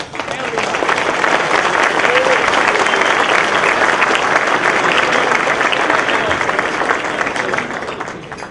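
A large conference audience at a State Policy Network event breaks into sustained, dense applause, loud and steady throughout before tapering slightly at the end.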